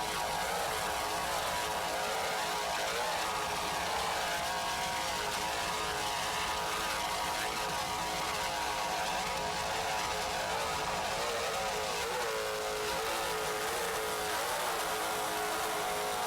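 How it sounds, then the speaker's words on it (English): Two 650-horsepower racing engines on an offshore powerboat roar steadily with a dense, continuous drone that holds loud and unbroken throughout, without any talking. "Just listen to those two 650-horsepower Zool racing engines."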